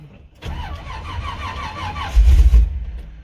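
A car engine on a cold start with a weak battery, cranking over in a slow, labored rhythm for about two seconds, then a louder rough surge as it briefly catches before cutting out.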